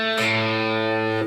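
Distorted electric guitar plays a sustained walk-down riff from a rock song, loud and close, ringing steadily for just over a second before cutting off.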